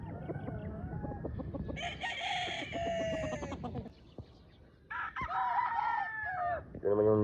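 Stag gamecock on a game farm crowing in loud bursts, with clucks and squawks between the crows, close by and alone.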